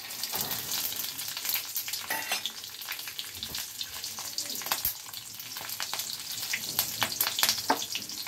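Whole spices (cumin, cloves, fenugreek seeds, bay leaf, green chilli and small cardamom) frying in oil for egg tadka: a loud, close crackling sizzle with irregular pops and stirring scrapes throughout.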